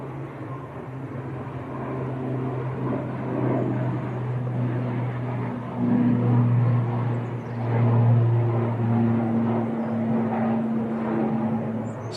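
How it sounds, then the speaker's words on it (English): An Aer Lingus ATR turboprop takes off at Manchester Airport, outbound to Dublin, giving a low droning propeller hum with a steady tonal buzz, moderately distant and swelling slightly over the roar. "Aer Lingus ATR just taking off"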